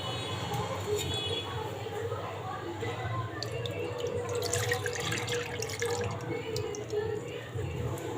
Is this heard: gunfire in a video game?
no